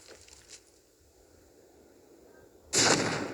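A smoke grenade bursts in the air in the game Standoff 2, a sudden loud hissing blast near the end after a quiet stretch with a few faint clicks.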